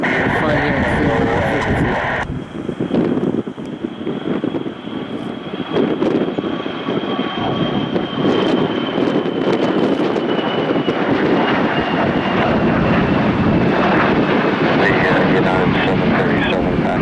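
A Gulfstream business jet takes off on runway 19 Center at Washington Dulles airport, a loud continuous roar of jet engines holding steady throughout. A voice talks over it part of the time.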